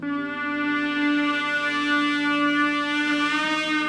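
An ancient brass acoustic tuner in The Fifth Bell, struck against a wall, rings out as a sustained, eerie metallic tone with rich overtones that holds steady for several seconds.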